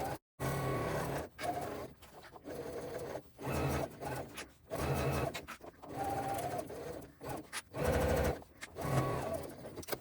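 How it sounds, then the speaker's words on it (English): A sewing machine bastes fabric layers of a crossbody bag together in short, rapid stitching bursts broken by brief pauses, close and fairly quiet. "when I'm basting, I don't backstitch, but just making sure to keep those layers lined up as you go"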